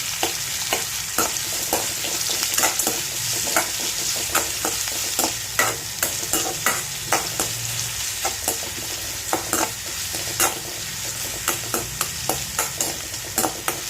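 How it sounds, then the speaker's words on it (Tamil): Onions and green chilies sauté in a hot pan, a constant sizzle broken by frequent sharp scrapes and clicks of a spoon stirring, close and fairly loud with no talking. "போட்டு நல்லா வெங்காயத்தை வதக்கி விடுங்க."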